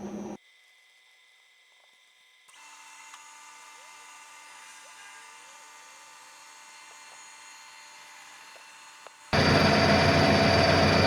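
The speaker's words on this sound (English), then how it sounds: "We just need to mill all of this off." A milling machine cuts a metal axle adapter for a Spitfire. A quiet motor hum rises into a steady, high, whining drone with faint scraping ticks, then ends in a sudden, much louder broadband roar up close.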